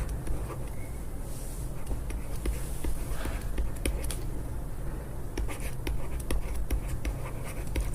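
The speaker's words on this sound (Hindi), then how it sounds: "मैं उसको लिखता हूं" A teacher writes on a board during a chemistry lesson, making a continuous close scratching with small taps and strokes over steady room noise, without talking.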